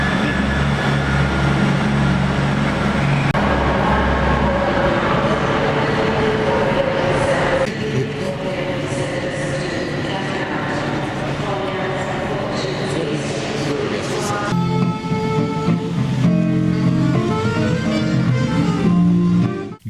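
Passenger train pulling into Glasgow Central station, a steady rumble of the rail cars rolling in with faint clatter throughout, while a voice speaks over it.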